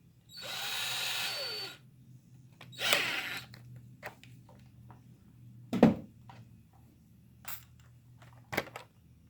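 A small drill bit boring into a Hot Wheels 1/64 diecast car, one close whining burst of about a second, followed by scattered clicks and taps of handling the part in a quiet room.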